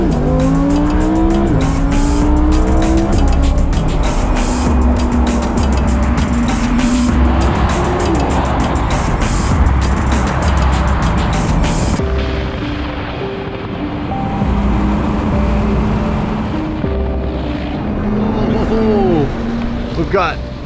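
A Lamborghini pushed hard along a road, its engine roaring loud and close as it climbs through revs with rising and falling pitch sweeps between gear changes, then dropping to a lower drone before surging again.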